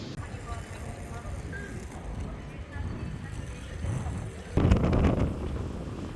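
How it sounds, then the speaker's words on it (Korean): Strong wind gusts outdoors near a train station in Hokkaido, a rough, rumbling buffeting against the microphone that grows heavier toward the end, with a person talking over it. "바람이 엄청 부는죠."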